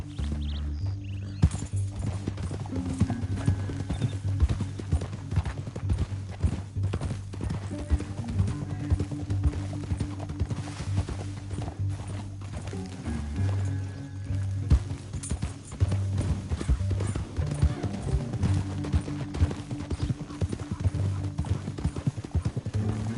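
Steady clopping of several horses' hooves over a low, dense rumble, continuing without a break; a faint whinny may surface briefly.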